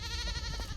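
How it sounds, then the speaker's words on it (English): Goat bleating in the horror video game World of Horror, a single short harmonic bleat held steadily and clearly for under a second, close and fairly loud. "Die, goat."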